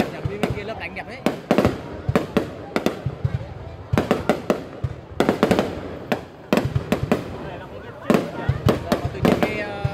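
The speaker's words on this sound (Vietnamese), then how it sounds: "cái bệ pháo nó lệch ra nó bắn nhỉ?" A fireworks battery fires at a village display in Từ Sơn, sharp cracking bangs bursting in irregular clusters through the whole stretch, with voices talking and calling out beneath the shots.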